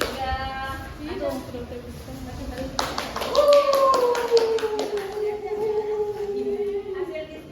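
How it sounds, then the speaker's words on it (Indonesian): Students in a microteaching classroom clap for a presenting group, a burst of hand claps rising mid-clip over a teacher's voice and children's chatter, with a sustained tonal whistle-like sound running underneath. "tepuk tangan untuk kelompok 3"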